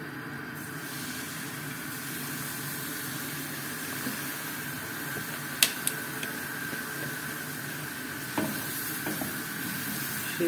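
A steady sizzling hiss as milk is poured into a hot roux fried in lard, with a few small clicks and taps over the constant sputter.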